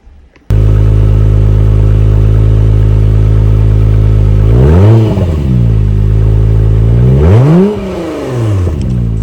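A 2022 Acura NSX Type S V6 engine idles with a deep, steady rumble, then revs sharply twice, each rising and falling back; stock exhaust, loud and close, no talking.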